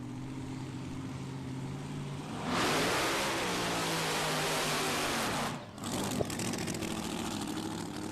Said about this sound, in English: if you haven't heard a supercharged car before